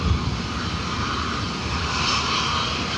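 An Airbus A320neo jet lining up on runway 10 right at Dublin Airport produces a steady, broad engine roar at moderate distance, unbroken for the few seconds heard, with no talking.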